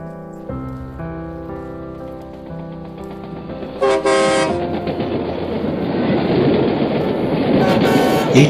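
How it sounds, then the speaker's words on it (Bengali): A train horn blares in long sustained tones at first, then gives way to the rising rumble and rattle of the train rolling along the rails, with a short toot partway through. "এই ট্রেনটা হয়তো আমার মতো একটা নির্দিষ্ট পথ ধরে ছুটে চলেছে"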